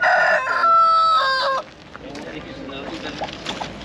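A rooster crows loudly nearby, then hens cluck and chatter against a busy background murmur of a crowded outdoor poultry market in Taşköprü, Kastamonu, Turkey.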